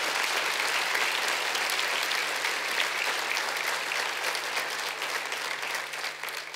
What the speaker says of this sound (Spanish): ¿alguien le puede dar un fuerte aplauso a nuestro Señor?